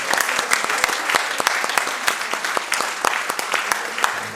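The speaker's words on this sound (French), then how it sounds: "Je vous propose de les applaudir" A seated audience at a French association meeting applauds warmly, dense continuous clapping with sharp individual claps standing out, loud and sustained throughout.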